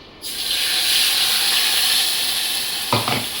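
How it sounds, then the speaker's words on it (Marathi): Loud, steady sizzling and crackling of mustard seeds and curry leaves in hot oil, starting abruptly and continuing throughout, with a few sharper pops near the end. "आता इथं मोहरी आणि कढीपत्ता चांगला तडतडलाय"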